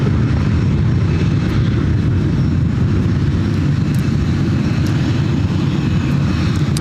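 A Southwest Boeing 737-700 taxis at Ontario International Airport in California, giving a loud, steady low rumble of engines that holds unbroken throughout, with faint higher clicks on top and no talk.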